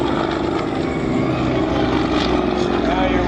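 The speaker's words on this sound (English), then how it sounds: "as Trevor comes by on a low pass, rolling the airplane here" An aerobatic airplane rolls through a low pass at the Greater Binghamton Airshow, its engine droning loud and steady throughout, with a commentator talking over it.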